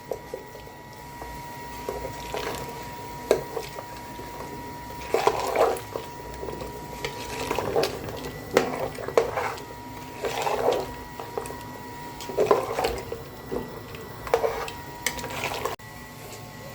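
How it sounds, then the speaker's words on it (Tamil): A ladle scrapes and stirs goat trotter curry (aattu kaal kuzhambu) in a pot, a faint, repeated rhythmic swish-and-scrape every second or two over a low background hum. "இப்போ வந்து கிண்டி விட்டுக்கணும்."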